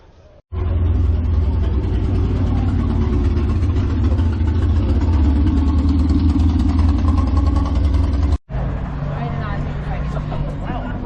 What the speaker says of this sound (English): V8 Morris Minor.